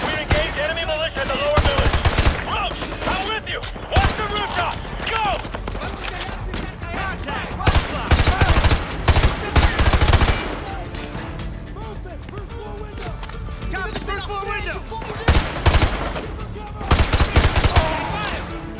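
Rapid bursts of automatic rifle and machine-gun fire in a Modern Warfare 2 remastered village firefight, loud and repeated in clusters, mixed with shouted voices.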